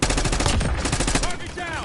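Rapid automatic gunfire from the Call of Duty video game, loud and continuous bursts that fill the moment, with brief voice fragments mixed in near the end.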